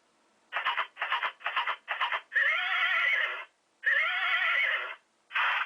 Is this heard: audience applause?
no